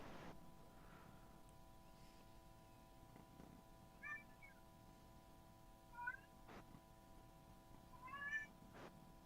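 A cat meows three separate times, short and fairly faint, spaced a couple of seconds apart, from somewhere in the background of a quiet indoor room.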